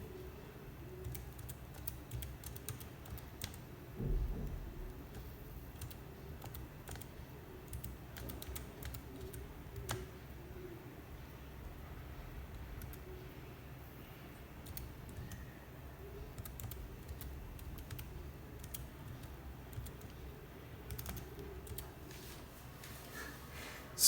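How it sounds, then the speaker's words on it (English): Steady clicking keystrokes on a Portronics foldable chiclet keyboard, a continuous run of light, close taps with short pauses throughout, no talking. "Let's type something."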